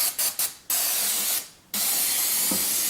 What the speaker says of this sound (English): so we're going to spray this out. Get some brake clean.